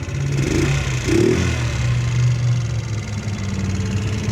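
A GY6 scooter engine idles close by after its carburetor idle speed screw and spring were replaced, with a steady low putter and clatter and a couple of brief rises in revs early on.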